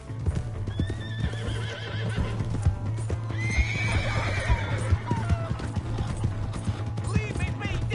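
Horse hooves clip-clop at a steady gallop alongside a whinny in the video game Red Dead Redemption 2, with game-style mechanical clicks and shouting voices mixed in.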